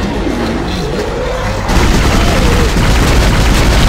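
A loud booming explosion in Dead Space erupts partway through, followed by a sustained rumbling roar; a tonal whine from a pulse rifle is audible beforehand.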